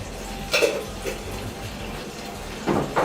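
Tap water runs into a kitchen sink while raw chicken is rinsed with baking soda, a steady close splashing flow broken by brief louder splashes as the meat is handled, with no talk.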